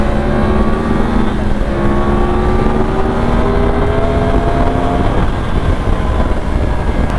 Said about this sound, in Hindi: अभी हल्का सा मैंने थ्रॉटल एक बार खोला था कि एक बार चेक करूं क्या पावर है